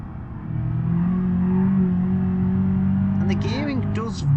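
Car engine revving in the BeamNG.drive driving game, a steady muscular low drone held close and loud for several seconds, then climbing and falling in pitch near the end.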